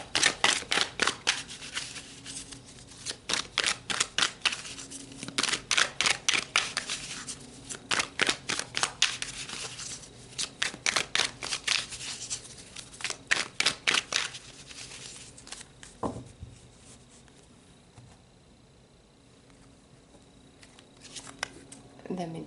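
Tarot cards are shuffled in quick riffling bursts, close and crisp, repeating for some seconds before slowing into a few softer slides as cards are drawn.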